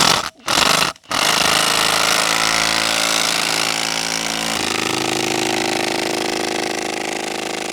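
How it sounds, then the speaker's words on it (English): Impact driver screwing an auger ground anchor into soil to anchor a shed: a loud, steady mechanical hammering drone runs throughout after two brief cut-offs near the start. "Try not to overheat my impact driver."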